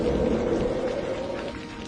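Steady, dense rain hiss with a low rumble underneath, continuous and fairly loud, fading slightly toward the end, heavy rain soaking mud walls in a cartoon.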